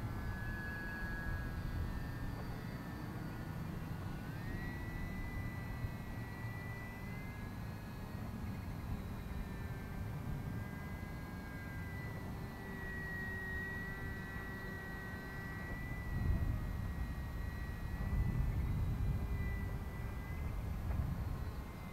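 Small model airplane flying in wind, its thin engine whine wavering steadily overhead at moderate distance, backed by constant wind rumble that swells louder near the end.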